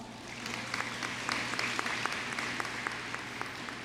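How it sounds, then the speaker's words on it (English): Audience applause fills a high school graduation ceremony hall, a steady dense wash of many hands clapping with scattered sharper claps standing out, sustained evenly for about four seconds without any talk. "Please welcome them with a round of applause."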